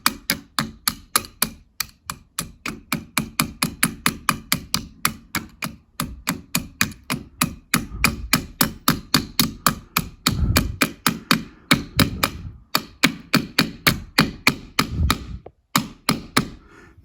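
Rapid, steady hammer taps on a fitting during minor home repair work, dozens of sharp close strikes in quick regular rhythm, some heavier thuds midway, with brief pauses near the end.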